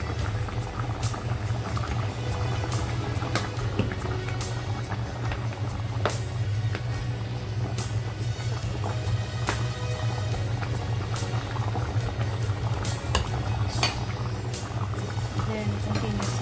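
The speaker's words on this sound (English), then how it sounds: "Then, continue simmering it." Chicken kabsa simmering in a pot, a steady low bubbling rumble with occasional sharp ticks and pops carrying on evenly throughout.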